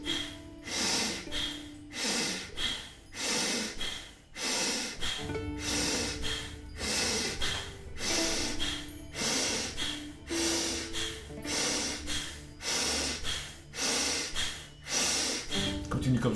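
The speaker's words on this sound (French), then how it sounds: "la respiration soufflée et la respiration du feu" Rapid, forceful blown breaths repeat in a steady rhythm during a guided breath-of-fire breathing exercise, close and loud, with a music bed underneath and brief moments of spoken instruction.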